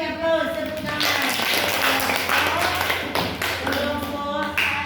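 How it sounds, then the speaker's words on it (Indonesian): A classroom of students claps their hands in applause during a Catholic religious education lesson, with brisk overlapping claps throughout and voices mixed in underneath. "kita beri aplaus tepuk tangan"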